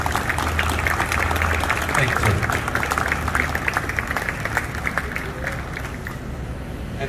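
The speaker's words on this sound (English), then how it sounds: "Round of applause." Audience clapping at a 9/11 remembrance ceremony, a steady round of applause from a gathered crowd that softens toward the end, with a brief spoken word under it.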